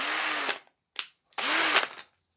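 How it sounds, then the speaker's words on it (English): An electric drill whines in two loud bursts, each rising and falling in pitch, with a brief clack between them and silence around them. "electric drill."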